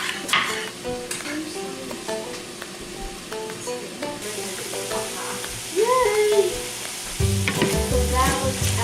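Ground beef and sausage fry in a pan, giving a continuous moderate sizzle with intermittent stirring scrapes and clinks, which swells louder in the final seconds.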